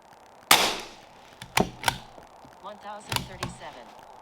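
A CZ457 AT-ONE rifle fires .22LR rounds in sharp, close cracks spaced about a second apart, with a soft electronic beep between some of the shots.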